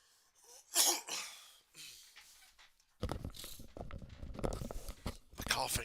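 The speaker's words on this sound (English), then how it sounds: "The coughing, not so much." A person coughs and clears their throat in a few separate bursts, fairly close, followed by rougher crackling noise with breathing.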